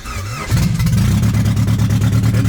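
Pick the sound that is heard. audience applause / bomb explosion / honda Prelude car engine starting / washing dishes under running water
honda Prelude car engine starting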